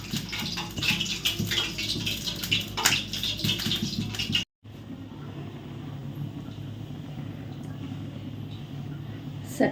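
Potato rolls fry in hot oil in a pan, giving a dense, steady hiss and crackle that drops out briefly and then resumes at a lower level.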